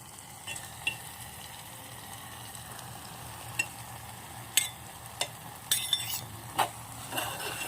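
Lotus seeds being stirred into a cashew gravy in a pan, with a soft steady sizzle underneath and scattered sharp clinks and scrapes of a spoon against the pan, close up and irregular.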